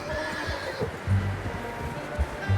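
A horse in the video game Red Dead Redemption 2 gives a loud, close whinny, with hooves clip-clopping through the clip and game ambience behind it.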